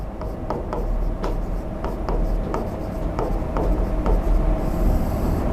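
Marker or chalk strokes on a classroom board, a quick series of short scratchy swipes repeating in an uneven rhythm, close and clear over a steady low room hum, with no talking.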